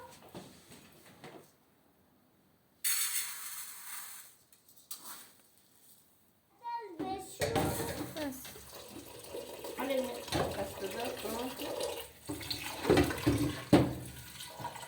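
Water runs from a kitchen tap in a home during cooking with children, a steady broadband rush starting and stopping in bursts, with children's voices and talk around it.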